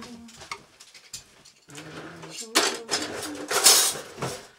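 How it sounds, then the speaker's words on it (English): Dishes, pots and cutlery being washed by hand, with repeated clinks and clatters of metal and crockery that grow louder and busier toward the end, while someone hums and a voice comes in now and then. "We're now down to the nitty gritty, which is doing the dishes."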